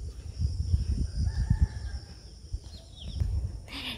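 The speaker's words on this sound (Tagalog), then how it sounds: "Maririnig nyo lang po yung mga huni ng ibon." A rooster crows at a distance while thin bird calls chirp in the background, over low rumbling noise outdoors in the Philippines.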